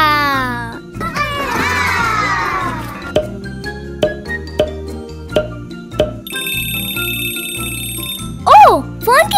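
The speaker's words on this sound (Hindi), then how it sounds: "ओह, फोन की घंटी।" A bright electronic phone ring with a repeating high-pitched tone, heard over a cheerful background tune alongside a voice and short tinkly sound effects.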